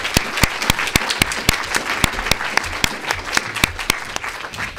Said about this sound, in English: if we have one final round of applause for all presenters here today